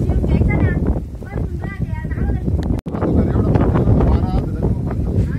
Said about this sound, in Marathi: आणि वारा पण लय सुटलेला आहे